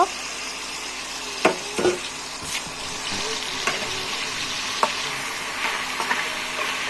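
Marinated meat frying in oil with whole garam masala spices, a steady broadband sizzle with scattered scraping and clinking stir strokes from a spoon in the pan, close and fairly loud, no talking.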